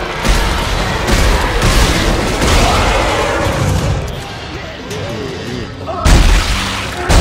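Heavy explosions and rapid gunfire in the video game Dead Space 3 boom over a dense battle din, loud throughout with a fresh blast near the end.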